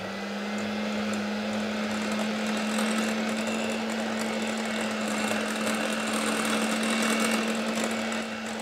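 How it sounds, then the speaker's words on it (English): An electric hand mixer beats banana bread batter with brown sugar, giving a steady, close, continuous motor whine with a strong constant hum that runs unbroken throughout. "I'm going to use my mixer here."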